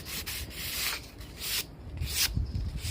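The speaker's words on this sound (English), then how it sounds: "sometimes getting into these areas you end up doing some hand sanding" Sandpaper rasps back and forth by hand across the wood of an old wine barrel in steady rhythmic strokes, a close, scratchy rubbing with no voices.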